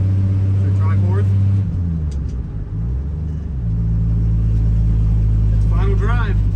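Old high-mileage farm truck with a rough carburetor, its engine droning loud and steady, dipping briefly as gears shift, then labouring on under low rumble, with someone talking over it on a cold day.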